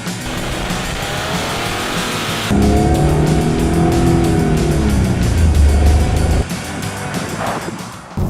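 A naturally aspirated, short-stroke engine in a front-wheel-drive sedan revs loud and up close, rising with sweeping pitch climbs that build harshly before easing off near the end.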